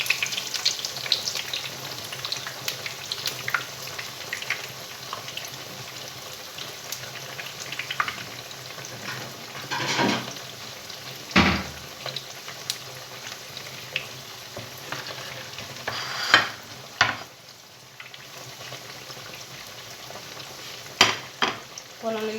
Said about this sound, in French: Et on va les faire frire.